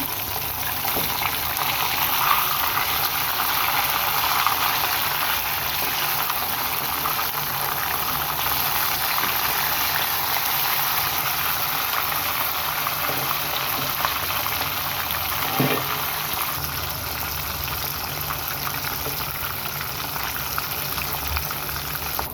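Fish fillets frying in hot oil in a pan, a steady broadband sizzle and crackle that holds even and close throughout, with a few brief clinks, no talking.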